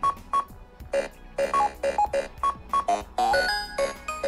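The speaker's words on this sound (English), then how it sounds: "you've also got a special custom Pac-Man alarm and Pac-Man ringtone as well." A retro-style Pac-Man alarm plays from a OnePlus Nord 2 Pac-Man Edition phone, a loud, close run of bright electronic beeps and chirpy arcade tones that repeats quickly in a rhythmic pattern.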